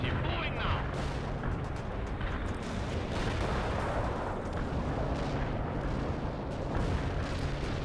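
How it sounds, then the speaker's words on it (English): Artillery fire in the real-time strategy game World in Conflict, a dense, continuous rumble of blasts and booming impacts with no pauses, loud throughout, with battlefield voices faintly mixed in. "watch out for our artillery"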